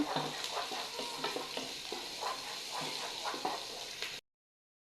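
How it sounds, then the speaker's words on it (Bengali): Spices with garam masala fry in a hot pan, a steady sizzle broken by repeated scraping stirs, close and clear, before cutting to silence near the end. "একটু ভালো করে ভেজে নেব।"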